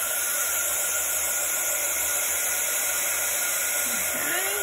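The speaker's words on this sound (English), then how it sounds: "Now I'm going to use the heat gun to melt the embossing powder." Heat gun blowing continuously while melting embossing powder for card making, a loud close steady whooshing roar with a high whine, unbroken for the whole stretch.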